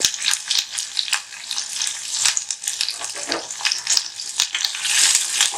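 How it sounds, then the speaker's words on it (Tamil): Onion and garlic sautéing in a pan for kuzhambu, a loud, close, crackling sizzle with bursts of spatula stirring and scraping throughout, no voices. "இதை நம்ம கொஞ்சம் வதக்கி விடலாம். இது கொஞ்சம் வதங்கட்டும்."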